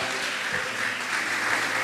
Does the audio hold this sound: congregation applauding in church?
yes